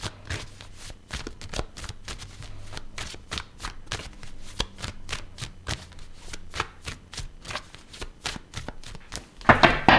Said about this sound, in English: I'm going to clarify the cards and pull some advice.